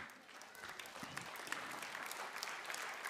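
Audience applause for professional judges at a young silat competition event, soft and fairly distant steady clapping from a crowd, even across the short stretch.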